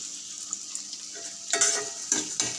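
Chopped onion with cinnamon and cardamom frying in a pan on a stove, a soft, steady sizzle with a few light stirring scrapes and utensil clinks near the end.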